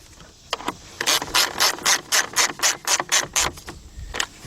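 A ratchet with a 10mm shallow socket tightening the radiator fan bolts on a 2006-2010 Chrysler PT Cruiser, giving a quick series of close, sharp clicking strokes with brief pauses between them.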